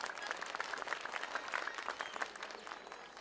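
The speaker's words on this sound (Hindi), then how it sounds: "एक बार जोरदार तालियां बजाओ" Cultural programme audience at the International Gita Mahotsav 2016 breaking into steady, dense applause, a loud continuous patter of many hands clapping throughout.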